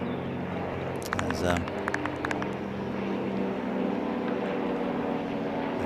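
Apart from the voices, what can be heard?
airplane flying overhead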